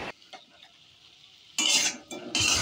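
Chopped tomato is stirred into a fish curry in a pan, with a few faint scrapes at first and then louder bursts of close sizzling and stirring, and no voices.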